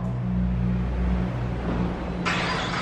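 A car engine runs and revs close by for a few seconds, a loud rumbling idle that swells, with a brighter hiss joining near the end.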